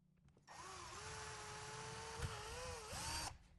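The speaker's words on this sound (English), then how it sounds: "Drilling right through that ring." A power drill whines steadily for about three seconds, its pitch dipping and rising slightly as it bores through a metal ring while installing a motorcycle saddlebag subwoofer kit, close and loud, then stops.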